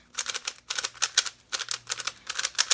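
Rapid plastic clicking and clacking in quick bursts, close up, like a puzzle cube being twisted repeatedly, with no voices.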